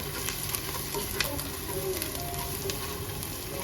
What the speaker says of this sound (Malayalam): അതിലേക്ക് ആവശ്യത്തിന് എണ്ണ ഒഴിച്ചു കൊടുക്കുക. എന്നിട്ട് ഇതിലേക്ക് ബാക്കിയിരിക്കുന്ന സവാള ചേർത്ത് കൊടുക്കാം. എന്നിട്ട് നല്ലതുപോലെ ഒന്ന് വഴറ്റിയെടുക്കണം.